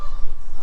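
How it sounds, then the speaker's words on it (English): Canada geese honk loudly and close by on a pond, with overlapping calls blending into a continuous harsh chorus. "That's obviously Canada goose for watch out, here comes that stupid greyhound again"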